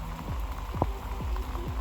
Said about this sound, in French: Il pleut, non?